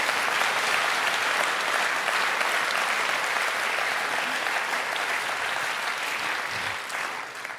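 A live audience at a German comedy and cabaret festival claps steadily. The dense, even applause fills the room and fades slightly toward the end.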